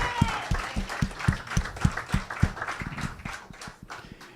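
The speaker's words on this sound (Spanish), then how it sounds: "vamos a darle un aplauso al Señor" A church congregation at a worship service claps in a steady rhythmic beat, then breaks into looser, scattered applause that fades, with a few voices mixed in.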